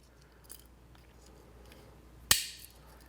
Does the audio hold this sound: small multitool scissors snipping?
yes